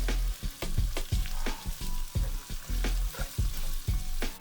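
Onion frying in a hot pan, loud sizzling broken into repeated bursts by frequent stirring roughly every half second, close up with no talking.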